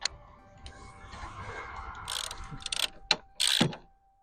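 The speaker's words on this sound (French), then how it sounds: "Une fois les deux boulons positionnés, revissez-les simplement." A hand ratchet tightens the battery hold-down bolts on a Hyundai i20, giving rapid close clicking bursts with short metallic ticks and a few sharper knocks, heard alone without talk.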